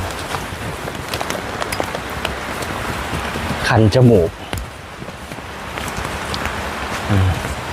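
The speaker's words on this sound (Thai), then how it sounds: "แม้ฝนตกก็ยังมีคนเข้ามาเรื่อยๆนะครับ" Steady rain falls at an outdoor shrine to the giant snake rock in Khao Kho, Phetchabun, a constant hiss of drops, with someone speaking briefly over it.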